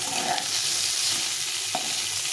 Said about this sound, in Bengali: এইভাবে পটলগুলো ভাজলে খেতে ভালো লাগে